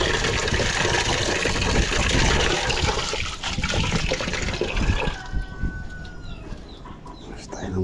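Water pours and splashes loudly and steadily, then tapers off, with chickens clucking in the background near the end.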